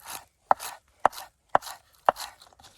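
A Civivi Timberbark knife chops green onion on a board in four crisp, evenly spaced strikes, each a sharp close tap with a short rustle after it, with no voices.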